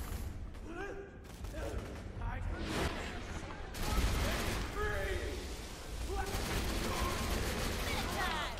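Rapid bursts of gunfire in Borderlands 2, fired with a fire-element weapon at a large enemy, rattling almost nonstop over loud game effects and voices.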